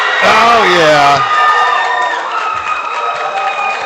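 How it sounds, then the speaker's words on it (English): Loud crowd cheering, whooping and applauding at a classic men's powerlifting championship after a successful record squat attempt, an opening burst of shouts settling into sustained cheers and clapping. "Crowd's going wild."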